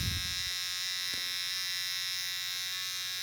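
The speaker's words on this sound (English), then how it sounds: "Gives my trimmer a little extra to grab onto." An electric hair trimmer cuts a child's hair, shaping the sideburn and edges: a steady, close, high-pitched buzz that holds alone throughout with a slight change in tone as the blades bite.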